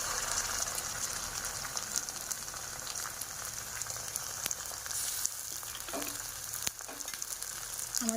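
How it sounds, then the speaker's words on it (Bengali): Onion with ground spice paste frying in a pan for an egg dish, a steady close sizzle with occasional stirring scrapes, no talking. "একটু হালকা ফ্রাই করে নেব"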